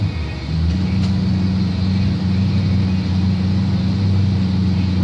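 Junior drag racing cars idling and revving at the start line of a points event, a loud steady low engine rumble with a brief rise early on, close up and without speech.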